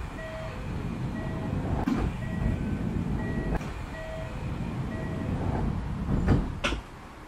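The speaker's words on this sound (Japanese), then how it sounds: "扉が閉まります。ご注意ください。" Beeping chime tones repeat under a rumbling rail hum in the train simulator Bve trainsim 5 on the Kintetsu Minami Osaka Line, then a couple of sharp door thuds slide shut near the end.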